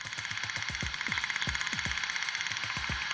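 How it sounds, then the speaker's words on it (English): Shrimp feeding in cold Atlantic water, picked up by a submarine's sonar sensors: a faint hiss filled with rapid clicks and falling chirps that repeat in a loose rhythm, with no voices. "What you're hearing is shrimp feeding in the cold waters of the Atlantic."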